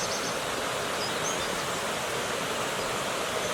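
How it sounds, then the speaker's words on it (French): Oyon river flowing below a rural village, heard as a steady, even wash of rushing water with a faint hiss, continuous and moderately loud throughout, no voices. "Et en contrebas du bourg coule une rivière qu'on entend peut-être chuinter derrière moi"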